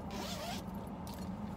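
A zipper on a thrifted fabric purse is drawn open in one smooth, close pull, followed by a shorter second tug, with no talking.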